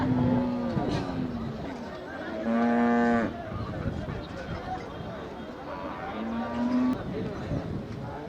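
Cattle moo at the busy Manapparai cattle market, several loud drawn-out calls standing out over constant crowd chatter and people talking nearby.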